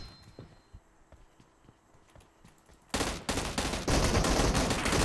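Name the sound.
gunfire in video game PUBG Mobile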